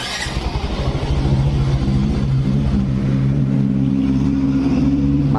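A Yamaha Mio S scooter with a traditional carburetor starts and settles into a steady, close idle, its engine chugging evenly without throttle for several seconds.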